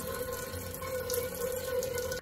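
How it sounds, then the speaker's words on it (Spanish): A steady water stream pours from a homemade sink tap made from a plastic bottle, a continuous close splashing hiss with a steady tone, stopping abruptly at the end. "podrás dirigir el chorro de agua en donde quieras"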